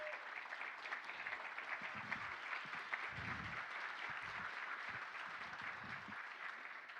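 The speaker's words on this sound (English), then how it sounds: "give Iris a round of applause" A crowd at a State of the City event gives a round of applause for honoree Iris Rideau, faint, distant clapping that continues steadily under occasional low murmuring.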